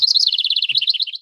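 A cartoon-style Tweety bird chirp: a rapid, steady string of high bright tweets, loud and close, running for just over a second on its own with no talk.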